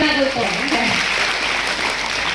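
An audience claps for the guests at a student scholarship ceremony, a dense, steady wash of applause throughout, with a voice talking over the opening.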